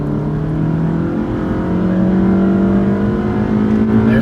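A 2018 Toyota Camry accelerates hard from standstill toward 60 mph, its engine note rising steadily in pitch through the gears, a loud continuous drone heard from inside the cabin without talk.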